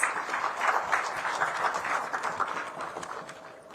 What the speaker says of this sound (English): Please welcome with a resounding applause.